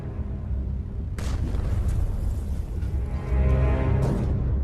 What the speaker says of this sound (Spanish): El chapoteo de proyectiles retumba en el casco.